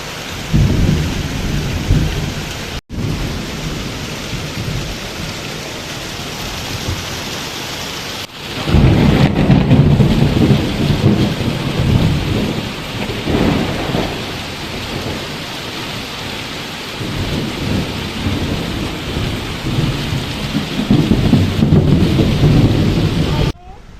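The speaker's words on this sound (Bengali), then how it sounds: "যতটা না বৃষ্টি হচ্ছে তার থেকেও বেশি বাজ পড়ছে" Steady rain pours down while deep thunder rumbles and rolls repeatedly, swelling louder in long waves, with faint voices in the background.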